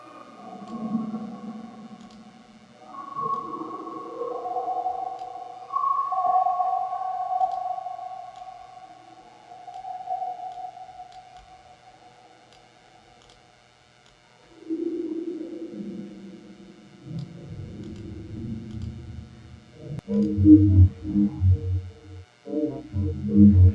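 Granular synthesis with grains stacked and pushed into heavy resonance, producing weird, ringing tonal smears that glide and shift, then give way to denser, pulsing low grain clusters near the end; no voices.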